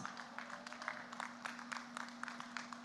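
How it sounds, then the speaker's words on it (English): Audience applause for faculty and staff at a high school graduation ceremony, a faint, steady patter of many hands clapping in a large hall, carrying on throughout. "let's give these professionals a well-deserved round of applause"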